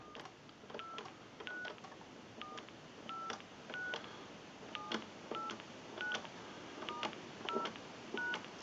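Keypad DTMF tones from a wood crank wall telephone converted to touch-tone, a dozen or so short evenly spaced beeps pressed one after another, faint and alone with no talking.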